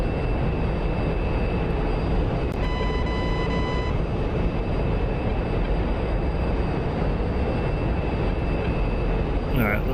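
The afterburner of an SR-71 in the DCS flight simulator roars as a dense, steady broadband rumble throughout, with a brief high tonal beep partway through and no talking.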